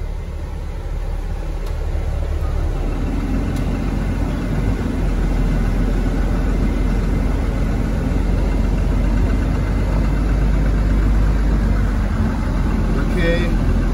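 A bus engine idles and runs loudly and steadily up close as the bus drives onto a weighing scale, a constant low drone with slight rises in intensity and no speech.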